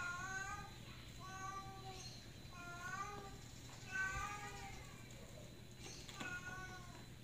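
A neighbourhood cat named Miko, stuck up high and unable to get down, meows repeatedly in a regular series of drawn-out cries over faint background noise.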